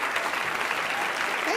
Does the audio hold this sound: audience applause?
yes